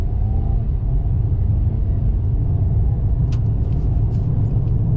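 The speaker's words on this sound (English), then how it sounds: "This Turbo 4 gets the vehicle up to speed." A 2024 Ford Maverick Lariat with the Turbo 4 and 8-speed pulls away, heard as a steady, loud low engine and road rumble from inside the cabin, with a few faint high clicks midway.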